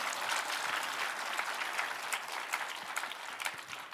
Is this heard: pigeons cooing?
no